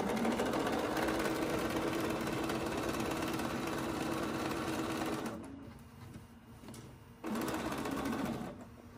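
A sewing machine stitches quilt triangle pieces together in a steady, loud continuous run, pauses briefly, then starts another short burst before stopping, with no talking.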